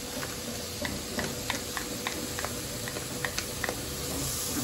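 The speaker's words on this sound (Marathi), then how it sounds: "तर याच्यामध्ये आता दही टाकून देतो." Yogurt poured into a pan of frying onions, giving a steady close sizzle and hiss with small crackles and stirring clicks scattered throughout.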